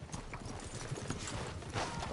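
Horses' hooves clip-clopping in the Red Dead Redemption 2 video game, a steady patter of soft hoof beats over ambient outdoor noise.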